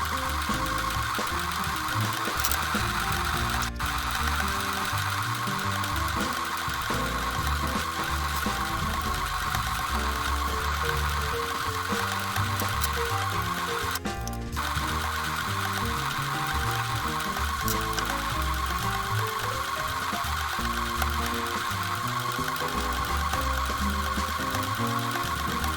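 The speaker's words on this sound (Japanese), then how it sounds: "もう1枚の布も同じ手順で縫っていきます。" A sewing machine stitches fabric for a reversible tote bag, a loud, close, continuous mechanical whir and rapid needle chatter that runs steadily throughout with no voices.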